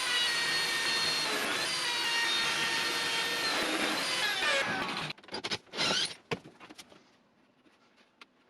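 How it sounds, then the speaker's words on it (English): A power tool cuts connector slots into birch plywood, giving a loud, steady, high-pitched whine for about five seconds before winding down into a few scattered knocks and taps. "Then cutting the slots for the connectors, first in the top, and then in the legs."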